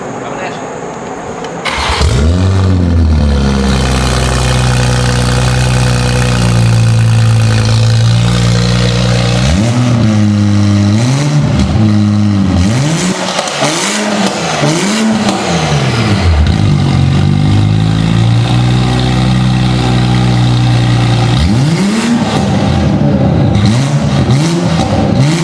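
A 2020 Toyota GR Supra engine with a new downpipe cranks and catches, then roars loudly through repeated revs rising and falling, with brief drops to idle between blips; very loud and close.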